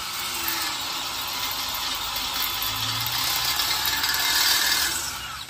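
A non-carbide drill bit grinds into a hardened bolt during a rake repair, giving a continuous close, harsh whirring and scraping drone that swells slightly toward the end.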